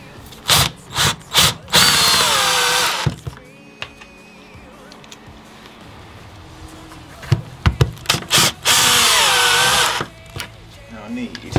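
Cordless power drill driving screws into wood for a hand-built bed in a VW Crafter van, several loud whirring bursts with short pulses between, and a voice talking quietly in the pauses.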